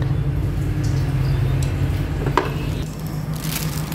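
Pork braising slowly in plain water in a pot makes a steady low bubbling simmer with faint sizzle, continuous and close, with one brief clink partway through and no talk.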